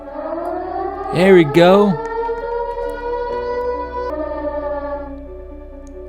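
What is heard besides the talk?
siren going off in a Roblox game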